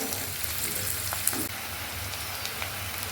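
Small onions sauté softly for a vegetable kadai kuruma, a faint, even crackling sizzle with an occasional light tick, steady throughout with no voices.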